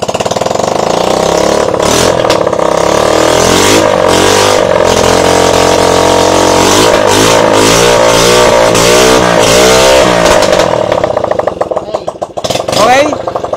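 A repaired Honda Wave 110 motorcycle engine runs loudly and steadily, with rising and falling revs, close by, while people talk and cheer over it before it fades near the end.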